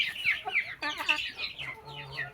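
A rooster perched in a nest clucks and calls to the hens in a short burst of close, chattering notes ending in a low drawn-out cluck, with farmyard background around it.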